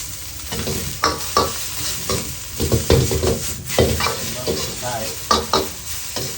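Shrimp pad thai with bean sprouts is stir-fried in a pan, loud close sizzling broken by repeated rhythmic scrapes and tosses of the spatula, with no talking.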